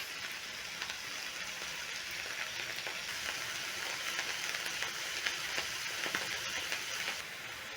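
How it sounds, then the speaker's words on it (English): Meat browning in a big pan gives a steady, even sizzle and frying crackle throughout, close and continuous, with no voices. "So you're going to evenly distribute your meat in a big pan, just like mine, and let the meat brown on all sides."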